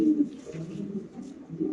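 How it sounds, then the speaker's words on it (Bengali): A male Blue Bar JNS pigeon coos low and close in a loft, one short rolling call with no talk over it. "আমরা যদি নরের ডাকটা একটু দর্শক আগে আপনাদের দেখাই"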